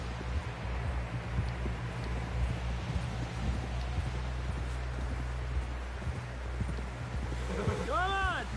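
Horse hooves clip-clopping in the video game Red Dead Redemption 2, a steady run of close, quick hoofbeats over a dense, rushing background, with voices mixed in and a brief wavering tonal cry near the end.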